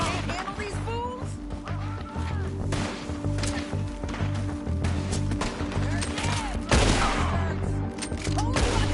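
Rapid gunfire and ricochets from a shootout in Red Dead Redemption 2, loud and sustained across the clip with overlapping shots, voices talking between bursts, and a heavier blast near the end.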